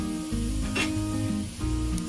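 Onions sautéing in a pan for a plain Tamil-style gravy, turning light brown: a steady soft sizzle and hiss running throughout, with a brief scraping stir near the middle and no talk.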